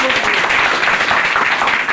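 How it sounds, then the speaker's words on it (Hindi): Audience applause at a girls' education programme in Hilsa, a dense steady wash of clapping filling the whole moment, fairly loud and unbroken. "जोरदार तालियों के साथ आप लोगों का बहुत"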